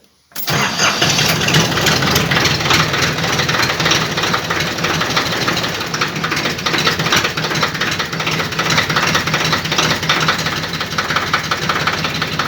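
A cold ATV engine revs hard: a loud, steady, rough roar kicks in abruptly and holds throughout with slight surges, close to the machine and with no voices.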